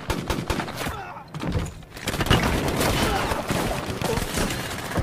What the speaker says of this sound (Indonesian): melibas satu persatu musuh dengan tembakan kaliber serta hantaman peluru yang tak berkesudahan